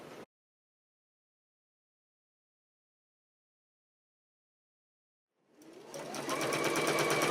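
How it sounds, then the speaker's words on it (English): A sewing machine starts up near the end, running steadily as it stitches fabric binding strips together for a flanged quilt binding, after a long silence. "simply going to sew all of these strips together"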